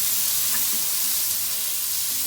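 Chopped onion sautés in a pan for a spinach soup, giving a steady close sizzle with a few soft scrapes of stirring, with no talking.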